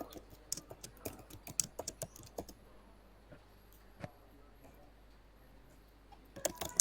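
Quick bursts of typing on a computer keyboard while JavaScript code is entered, crisp close key clicks in irregular runs with brief pauses, then a fresh flurry at the end.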